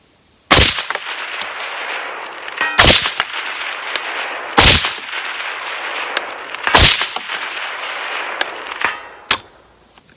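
Five sharp metallic clangs ring out at uneven intervals as .308 rifle bullets from an IWI Tavor 7 hit a steel target, each a bright ping with a short ringing tail, loud and close against a quiet background.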